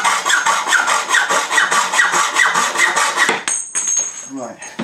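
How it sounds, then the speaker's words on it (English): Hand-sawing through metal tube with steady, rhythmic back-and-forth strokes for several seconds, close and loud, then the cut finishes and the strokes stop, leaving a brief ringing tone and a few clatters. "I'm going to cut 2 lengths of tube dead square"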